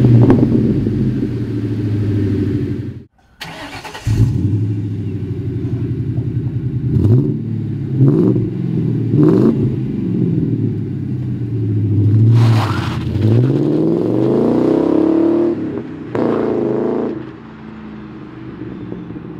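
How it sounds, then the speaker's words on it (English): A 1999 Mustang exhaust with Borla S-Type Stinger stainless mufflers rumbles with a deep, rich tone, revving up and settling back several times, with a brief cut near the start; close and loud throughout. "The Borla S-Type Stingers have a much deeper tone than I expected them to be."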